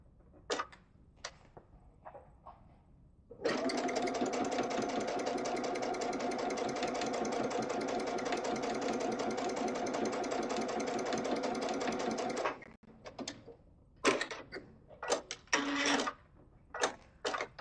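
Sewing machine stitching quilt pieces together in one steady, loud, rapid whirring run of about nine seconds, with handling clicks and taps before and after.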